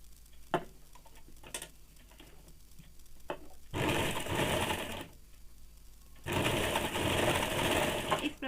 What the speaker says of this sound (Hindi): इस प्रकार से 1/2 इंच पे पूरे में सिलाई चला लेंगे।